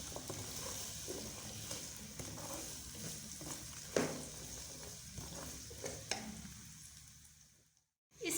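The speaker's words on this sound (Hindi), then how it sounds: "मटर, और इनको भून लेंगे।" Peas and mixed vegetables fry for a vegetable pulao, with a steady close sizzle broken by scraping stirs and a few utensil knocks against the pan, then a short silence before the sizzle returns.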